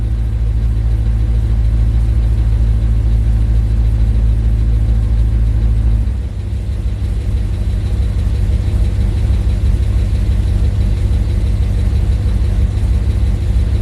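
An LS V8 engine running slightly lean idles loudly and close by with a deep, steady rumble; about six seconds in, the tone shifts lower and rougher as the idle changes, with no voices over it.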